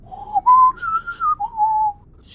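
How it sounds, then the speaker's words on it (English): A single whistle in the space game No Man's Sky rises and falls through several sliding pitch steps over about two seconds, clear, close and alone against near silence. "I hear a faint, rapidly modulated whistle."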